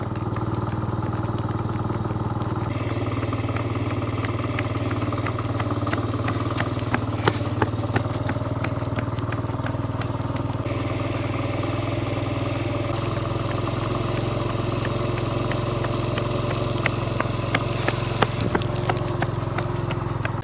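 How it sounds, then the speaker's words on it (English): A scooter engine runs steadily close alongside a jogger outdoors, a continuous low motor drone with occasional rattles and clatter throughout. "My dad is joining me on his scooter."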